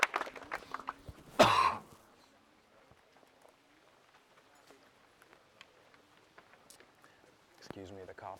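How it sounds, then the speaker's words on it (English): A single sharp cough bursts out near the start, preceded by a brief throat sound, then quiet with faint background noises and some talk at the end, outdoors at a disc golf tournament in dry, sandy air. "Excuse me, the cough."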